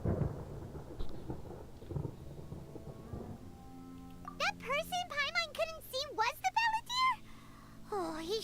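A thunderstorm in Genshin Impact opens with low rumbling thunder and rain, then fades under a character voice speaking in an animated, expressive way.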